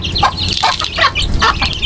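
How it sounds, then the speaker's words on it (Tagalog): Chickens cluck in a steady chorus around feeding time on a small farm, several birds calling close by in short repeated bursts with no talk. "Ako po muna yung magpapakain ng mga manok"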